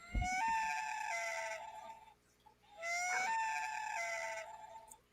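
A common loon gives two long, drawn-out wailing calls that rise slightly, separated by a brief pause, clear and alone against a quiet background.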